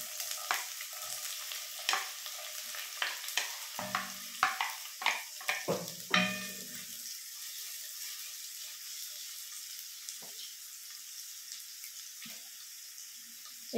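Onions hit a hot kawali for ginataang kalabasa: several seconds of sharp stirring clatter and spatula knocks, then a steady, close, soft sizzle that carries on alone with a few faint clicks and no talk.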